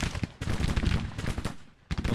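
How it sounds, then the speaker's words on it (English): Artillery fire in the Civil War strategy game Grand Tactician: The Civil War, a dense rolling barrage of overlapping booms and crackling shots that briefly dips before resuming, with no talk over it. "Our own guns appear to be firing."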